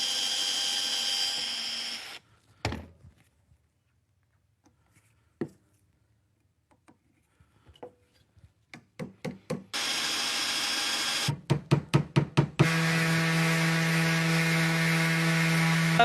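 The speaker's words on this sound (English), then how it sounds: "I'm just gonna clamp this up and we will drill a couple holes in there." A power drill bores dowel holes into clamped wood, its whine coming in sustained runs separated by quiet gaps with scattered taps and a rapid series of short pulses before the final long drilling stretch.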